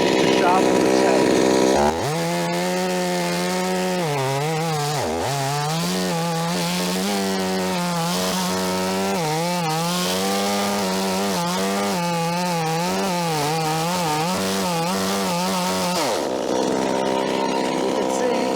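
A chainsaw with a dull chain cutting into a log, the engine revving up then holding a loud, steady, wavering whine for about fourteen seconds before dropping back to idle.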